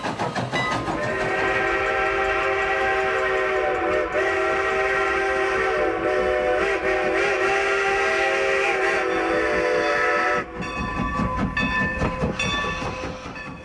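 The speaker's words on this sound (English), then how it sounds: "Steam locomotives travel these rails on a daily basis, pulling authentic historical rail cars" A steam locomotive on a scenic railroad pulling historical rail cars, with a sustained loud whistle holding steady chords over rumbling wheels, then breaking off near the end into clattering, chuffing train noise.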